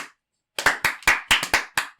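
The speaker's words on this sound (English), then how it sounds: "Well, clap for effort." Several sharp hand claps ring out in a quick, uneven burst after a brief pause, close and crisp with no talking over them.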